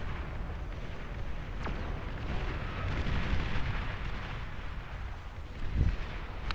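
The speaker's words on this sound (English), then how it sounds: "missile launch detected." A nuclear missile launch in the strategy game Beyond All Reason gives a sustained, rumbling roar with a deep boom near the end, steady and fairly loud.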